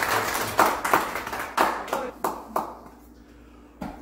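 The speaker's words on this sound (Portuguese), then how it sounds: "Uma salva de palmas para o João." A small audience claps by hand at a tribute event on Faial Island in the Azores: a handful of sharp, separate claps in a loose rhythm, close and fairly loud, thinning out toward the end.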